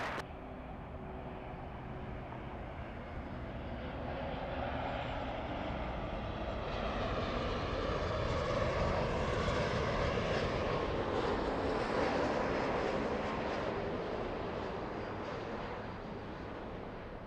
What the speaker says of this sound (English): looks like the little E175 taking the high speed out of 24 right